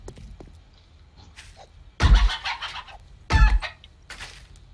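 A chicken in the video game 7 Days to Die gives two loud, sharp clucking bursts a second apart, with fainter scratchy game noises in between.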